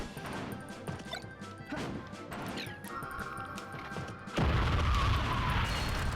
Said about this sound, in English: I got hit by the Deku Nut